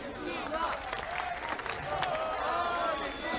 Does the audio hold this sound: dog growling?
no